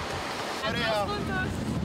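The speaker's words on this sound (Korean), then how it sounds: "Una playa libre, se puede surfear, hay olas grandes." Big Atlantic waves breaking on an open surfing beach, a loud rushing roar of surf with heavy wind buffeting the microphone and a faint voice-like whine partway through.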